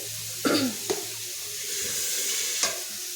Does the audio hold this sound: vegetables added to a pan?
yes